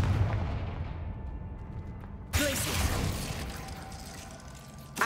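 A sudden explosive blast from the Confringo spell in Hogwarts Legacy bursts out mid-way, followed by a crackling, roaring tail over a low ambient rumble, with a smaller hit near the end.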